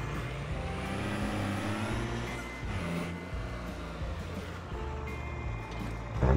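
A truck engine rumbles steadily and close up as the truck is parked, a continuous low drone with slight shifts in load and no talking.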